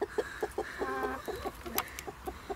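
A broody hen clucks in a steady, rhythmic series of soft, low clucks with one sharper squawk in the middle, fairly faint and up close with no talk.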